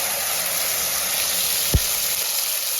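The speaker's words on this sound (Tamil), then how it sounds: "அப்படியே எண்ணெயிலேயே நல்லா வதக்கிவோம்" Ginger garlic paste sautéing in oil, a continuous bright sizzle and crackle at steady level, with a single low thump near the end, no talking.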